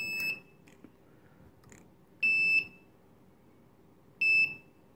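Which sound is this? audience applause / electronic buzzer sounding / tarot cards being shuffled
electronic buzzer sounding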